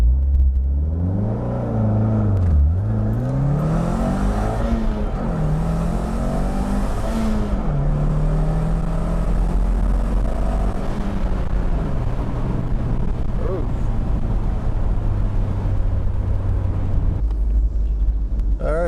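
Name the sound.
car launching and accelerating with sprint booster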